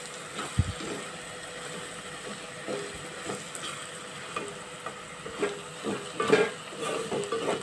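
Curry of eggs and tender tamarind leaves being stirred in a pan, with a steady low sizzle and scattered scraping clinks of the spoon against the metal, moderately close and without talk.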